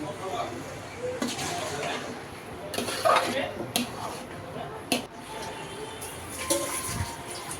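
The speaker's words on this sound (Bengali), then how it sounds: "তো গুঁড়ো দুধ আর টমেটো সস দেওয়ার পর ভালোভাবে নেড়ে চেড়ে" A spoon stirs biryani with powdered milk and tomato sauce in a pot, with scattered metallic clinks and scrapes against the pot under a person talking.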